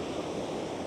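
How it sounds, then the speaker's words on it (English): Big ocean swells break as surf, a dense continuous wash of roaring water, loud and close, with no voices. "we got 2 or 3 big swell lines coming in here"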